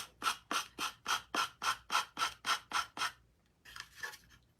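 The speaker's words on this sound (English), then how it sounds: "these are just sanding blocks." A sanding block scrapes back and forth in eleven quick, even strokes, then a few softer, rougher rubs, close and clear with no talking.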